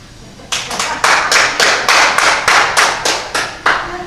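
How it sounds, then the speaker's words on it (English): A church congregation claps together in a steady, even rhythm, about a dozen sharp, loud claps following a brief quiet start, with no voices over them. "y'all get ready to clap."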